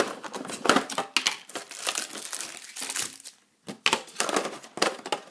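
Panini Euro 2016 sticker packets are torn open and crumpled close up, with bursts of crisp crinkling, ripping and foil rustle and one short pause between packets.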